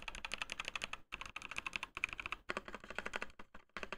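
Clacky keystrokes rattle off in quick bursts with short pauses between, close and bright, rapid typing on a cheap $10 mechanical keyboard.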